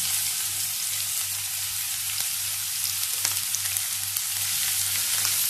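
Sliced onions, three large ones, frying in a pan of hot oil for a chicken cake, giving a steady broad sizzle with a low hum beneath and occasional sharp crackles and pops, close and continuous throughout.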